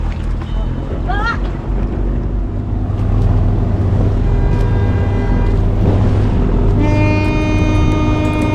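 A boat out at sea off the Blue Lagoon in Bali, waiting before a snorkeling trip. A steady low engine drone and wind buffeting run throughout, with brief voices over it.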